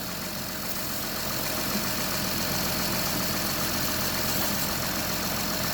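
A car engine idles steadily at close range while its drive belt is being cleaned, a continuous low rumble with a faint ticking texture and no voices.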